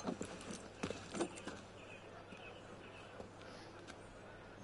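Horse hooves clip-clop in Assassin's Creed Unity, a handful of quick hoof strikes near the start, then a low ambient hum with faint scattered steps.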